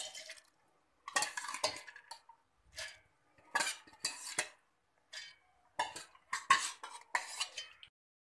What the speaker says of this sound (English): First I am adding urad dal to my mixture jar.